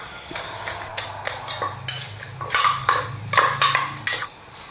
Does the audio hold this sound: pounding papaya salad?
yes